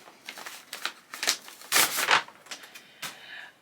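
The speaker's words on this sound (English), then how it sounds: "So I might just have to cut out a little bit of the rustling" Crinkly rustling and crackling as a present is unwrapped, in irregular bursts of paper handling with a louder crumpling flurry midway, close up and alone with no talking.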